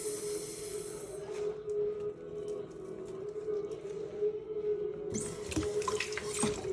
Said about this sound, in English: we peel the scallion off and then we wash it same as usual